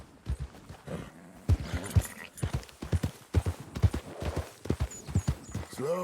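Hooves of a Grey Roan Sabino Kentucky Saddler horse in Red Dead Redemption II clip-clop in a quick, uneven rhythm at close range, with a faint whinny-like squeal toward the end.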